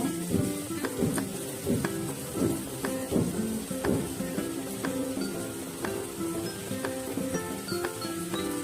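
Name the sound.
finely chopped onion frying in oil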